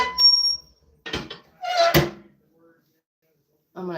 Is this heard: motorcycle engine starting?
no